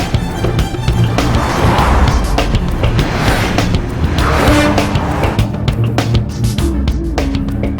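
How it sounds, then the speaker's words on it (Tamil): A car pulls away with a broad, continuous engine and tire roar, loud and steady throughout, in an action movie scene with background music underneath. "டிரைவர், வண்டி எடு."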